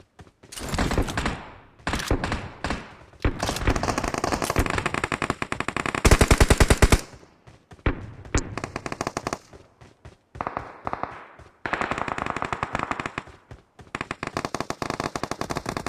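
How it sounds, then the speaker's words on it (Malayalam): Loud, close bursts of automatic gunfire in PUBG, fired in rapid rattling volleys with short silent gaps between, sometimes one long sustained burst. "ഇവിടെ എന്താണ് തോക്ക് ബുള്ളറ്റ് ഒക്കെ."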